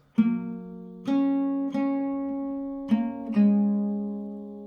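Acoustic guitar chords plucked one at a time, five strokes in an unhurried rhythm, each ringing out and overlapping the next, close and clear; the C part of a song.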